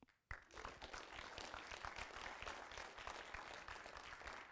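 A brief hush breaks into loud, sustained audience applause for startups at a VR/AR accelerator demo day, dense clapping that continues evenly to the end.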